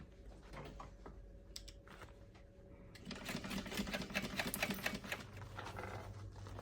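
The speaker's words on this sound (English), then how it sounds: "all we're trying to do here is just baste the foam to the vinyl" A sewing machine bastes foam to vinyl for a toiletry bag, with a steady, faint rapid stitching clatter that grows louder and busier midway, with no talking.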